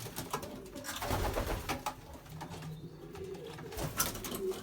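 Belgian racing pigeons coo softly in a busy loft, their low throaty calls repeating over a rustling, shuffling background with a few brief bird noises.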